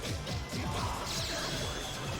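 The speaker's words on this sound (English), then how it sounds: "And just smashing that EX command grab." An EX command grab lands in the UNICLR fighting game, heard at a tournament: a loud, continuous crash of hit effects and thuds in a dense rhythmic run, layered over game music and crowd noise with no clear break.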